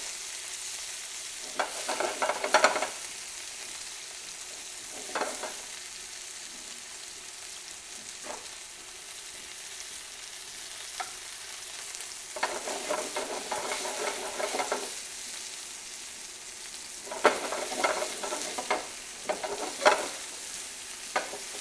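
Lamb and spices fry in a pan for a Moroccan tagine, with steady sizzling that swells in several louder bursts as the meat is stirred and turned, close up and without talk.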